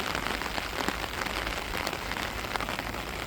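Heavy rain pours down steadily in a Tamil village, a dense, even hiss of drops striking surfaces close by, with no talk.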